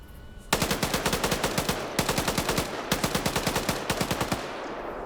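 A PKP machine gun in a multiplayer shooter fires loud, rapid bursts of evenly spaced shots, three or four long strings separated by short pauses, close and dominant with no talk.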